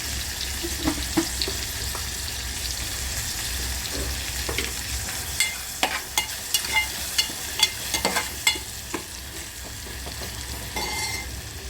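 Curry leaves and red Kashmiri masala frying in oil for cowpea sambar, a constant close sizzle joined midway by a run of sharp spoon clicks and scrapes against the pan, with no voices.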